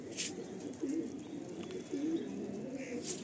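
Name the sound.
male Madrasi tournament pigeon cooing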